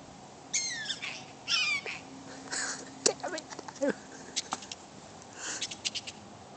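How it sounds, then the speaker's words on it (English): High chirping bird calls and several short squeals from prairie dogs, popping up in quick clusters at close range over a faint background hum. "Bird tweeted and like six of them squealed."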